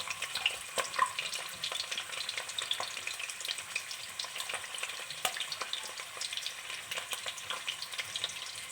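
Boiled eggs fry in a pan for egg curry, giving a steady, fairly faint crackling sizzle with dense sharp pops throughout.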